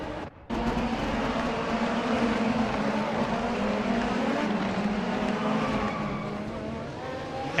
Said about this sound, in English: Hits the curb way too hard and flips on his side.